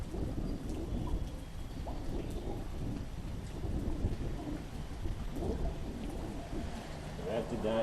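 Steady rain at a bridge fishing spot, a continuous close hiss and patter with low rumbling underneath, lasting throughout without let-up.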